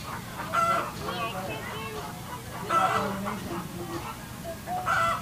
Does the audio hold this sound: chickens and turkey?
yes